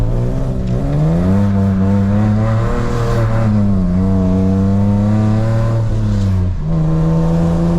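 A BMW E46 drifting on wet streets in the rain, its raspy exhaust droning loudly and close up as the revs climb, fall and hold in sustained pulls.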